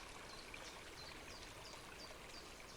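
Mountain river water flowing steadily, a soft continuous rushing and gurgling with faint trickles, fairly distant and quiet, with no talk.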